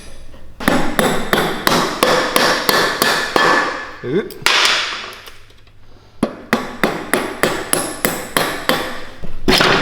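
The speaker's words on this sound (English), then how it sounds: "use our hammering tool" A hammer strikes a seized motorcycle brake shoe during a Baja Warrior engine swap, a run of sharp metallic blows in a steady rhythm, then a pause with a scrape before a second quick series; a brief voice is heard.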